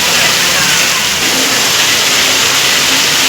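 Motorbikes push through a flooded railway-station underpass in Patan during heavy rain, with a loud, continuous engine roar and revving mixed with rushing water noise, close up.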